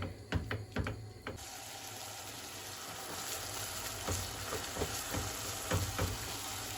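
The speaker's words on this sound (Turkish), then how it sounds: "Kıymamızı biraz kavurduk." Minced meat sizzles steadily in a hot pan, with a constant frying hiss broken by light scraping clicks of stirring, fairly close and with no talk.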